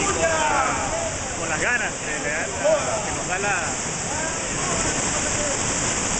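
A waterfall in the Alberto Adriani municipality near El Vigía pours with a constant, loud rushing hiss while several people talk and exclaim over it close by.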